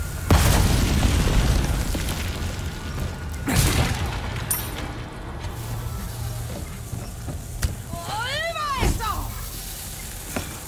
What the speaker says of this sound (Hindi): ओ बम फटेगा।